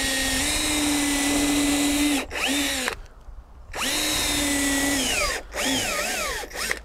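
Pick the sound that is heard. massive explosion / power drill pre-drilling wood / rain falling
power drill pre-drilling wood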